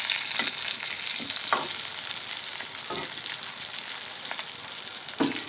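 Fish frying in a pan crackles with a continuous bright sizzle, broken by several soft scrapes as the pieces are stirred or turned.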